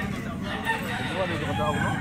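A young stag rooster, an orange bulik, crows in short, close bursts against a busy background of voices and farmyard noise.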